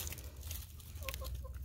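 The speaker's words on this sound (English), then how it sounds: "Chickens love pumpkins." Backyard chickens cluck softly while pecking at leftover pumpkin, a brief, faint run of short calls over low background rumble.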